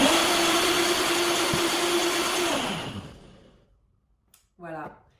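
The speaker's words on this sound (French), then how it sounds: "on va mixer une première fois" A kitchen blender whirs as it mixes a ricotta preparation, a loud steady motor whine that winds down and stops about halfway, followed by near silence and a brief voice.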